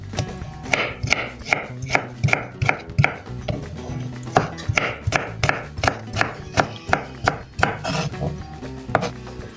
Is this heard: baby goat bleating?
no